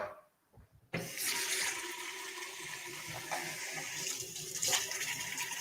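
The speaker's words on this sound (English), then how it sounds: "Give my hands a little wash." Tap water runs steadily while hands are washed in a home kitchen during a burger cookalong, starting abruptly after a brief quiet moment and continuing as a close, broadband splashing rush with no talk.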